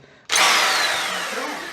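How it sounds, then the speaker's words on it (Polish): A battery-powered cordless hammer drill starts abruptly and runs loud and close at a steady pitch while replacing an exterior apartment door, its whine fading slightly over a second and a half. "Dobrze, że mamy ten młot na aku"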